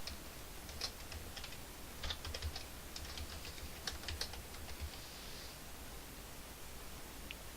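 Fingers type a short name on a computer keyboard in a C# setup, producing soft scattered key clicks in small bursts over a faint background hiss, close and fairly quiet.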